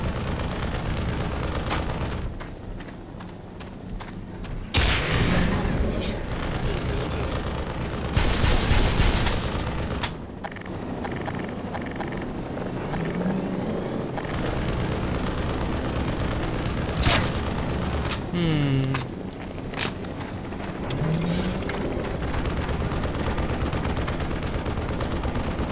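Gunfire in the Black Mesa video game crackles through a continuous battle din, with loud bursts of shots and booming blasts repeating throughout, with no talk over it.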